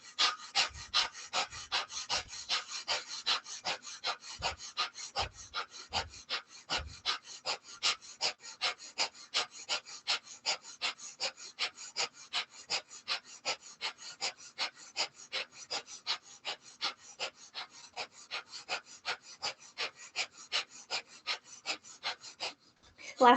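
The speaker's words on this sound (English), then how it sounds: "Breath of fire through the nose, equal inhale, exhale." Rapid, even breath of fire through the nose during a Kundalini yoga kriya, with dozens of sharp, rhythmic puffs at about three per second, close-miked and sustained for over twenty seconds.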